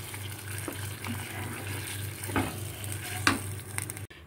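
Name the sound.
stirring pav bhaji curry in pan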